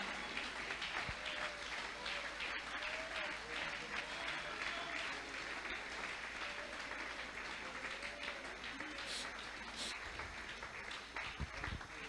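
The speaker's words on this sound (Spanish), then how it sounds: "Dele ese aplauso al Señor Jesús." A church congregation applauding during a Spanish-language evangelical service, a steady wash of clapping from a large group that stays even and sustained, fairly distant and soft, with some voices mixed in.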